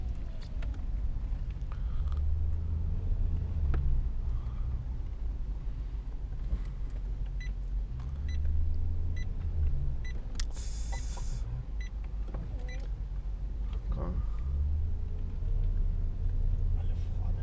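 2007 Maserati Quattroporte 4.2 V8 heard with the windows open, a deep, steady engine rumble close by, with a brief electric window whir partway through.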